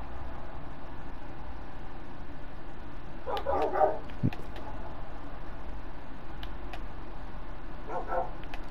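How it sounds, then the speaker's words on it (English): Minecraft wolves barking in the video game: a short cluster of barks near the middle and another brief burst near the end, over a quiet, steady background hiss. "I look away for 2 seconds and they start barking"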